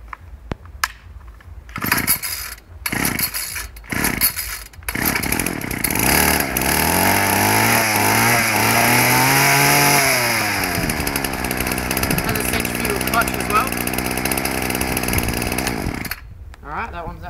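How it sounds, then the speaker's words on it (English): A 31cc Ryobi whipper snipper cold-starts after several sharp pull-cord attempts, then catches into a loud, buzzing two-stroke roar. The engine revs and settles into a high, steady whine up close before cutting off near the end. "31cc ryobi whip snipper."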